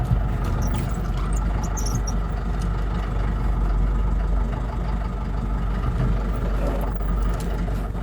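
A 1965 1¾-ton diesel truck with a four-on-the-tree column shift reverses, its engine giving a steady, loud low rumble and clatter that runs unbroken throughout with no talk.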